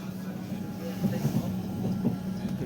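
A train running on a parallel track beside a moving Kanchenjunga Express in Kolkata, a steady low rumble with faint rhythmic rail clatter, close and continuous with a voice talking over it.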